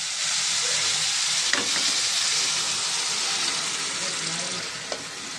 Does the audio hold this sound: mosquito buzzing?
no